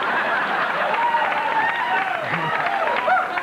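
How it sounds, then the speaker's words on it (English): A studio audience cheers and applauds loudly for a host celebrating 30 years in show business on a 1992 morning talk show, a steady roar of clapping and shouts with voices mixed in. "You can hear the crowd."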